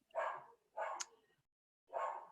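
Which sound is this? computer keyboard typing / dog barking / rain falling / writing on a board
dog barking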